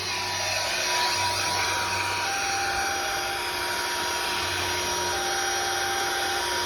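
A steady high-pitched power drill whine drones on without a break while drilling into a tree stump, joined by a lower intermittent grinding hum, moderately loud and close.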